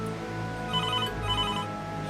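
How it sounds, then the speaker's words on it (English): A telephone ringing during a snowstorm night, a steady electronic ringtone with a repeating warbling pattern, close and clear over a faint low background hum. "answering the phone until the phone rang again"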